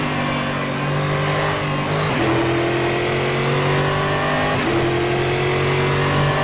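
V8 race car in a racing simulator game, its engine droning steadily at high revs with two audible gear shifts, close and continuous with no talk.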